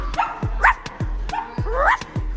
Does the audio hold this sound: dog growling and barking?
yes